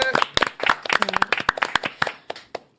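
A small audience claps for an election candidate, Seo Mi-hwa, with sparse, uneven hand claps that thin out and fade near the end.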